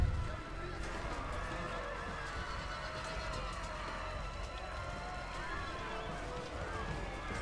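Mounted cavalry horses in the video game Empire: Total War, neighing and whinnying over a continuous clatter of galloping hooves, with battle noise and faint voices mixed in at a steady moderate level.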